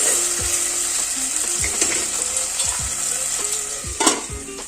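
Onion and potato cooking in a pan for a jackfruit curry, with a steady sizzle and repeated scraping strokes of a spoon stirring them, close and moderately loud, no talk.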